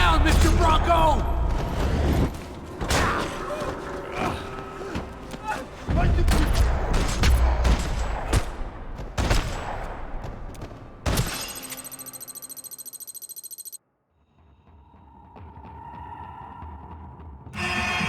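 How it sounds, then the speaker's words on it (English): Dense gunfire fills a shootout in a parking lot in the video game Max Payne 3, rapid loud bursts and impacts for several seconds, then a mechanical whine and quieter game sounds. A voice speaks over the action. "Another parking lot rattling with gunfire."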